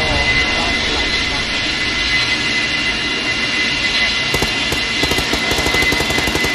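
Inside a video game, an aircraft engine drones loud and continuous like a jet, with a steady broadband roar and a few sharp clicks near the end, while a voice talks faintly underneath.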